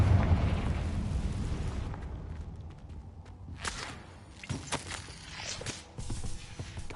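A Confringo fire spell bursts in a video game with a loud whooshing blast that rumbles and decays, followed by scattered crackles, thumps and footstep-like impacts at mid distance.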